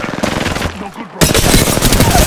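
Rapid automatic gunfire from a squad-based shooter video game, bursts rattling loudly and nearly continuously, dipping briefly before a sharp, louder volley resumes, with no clear talk.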